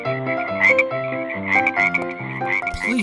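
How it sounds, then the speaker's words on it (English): Frogs in an animated Bible story about the plague of frogs from the river, croaking continuously in a dense, rhythmic chorus laid over tuneful background music. "Thousands of frogs came out of the river."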